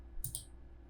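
A single computer mouse click during AutoCAD drafting, a short sharp double-tick close to the mic over a quiet background hum.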